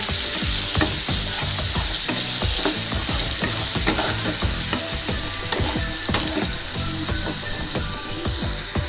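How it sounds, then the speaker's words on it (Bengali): Two large grated onions sautéing in a pan for Bengali pomfret fish curry, a steady loud sizzle with repeated scraping stirs of a spatula throughout. "পেঁয়াজ আমি গ্রেট করে রেখেছি দুটো বড় সাইজের পেঁয়াজ সেটা আমি দিয়ে দিলাম এবার এটাকে ভালো করে আমি কষিয়ে নেব"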